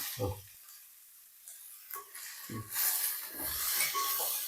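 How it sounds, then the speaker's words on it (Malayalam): Beetroot, carrot, potato, onion and green chilli with salt stirred in a pan, giving soft scraping and sizzling strokes in short bursts, partly mixed with a voice. "ഇപ്പോൾ ഉപ്പൊക്കെ ഇട്ട് ഇളക്കി"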